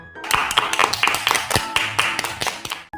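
A small group of children clapping together in a Hindi story, quick uneven claps with a few sharper taps, fairly close and alone.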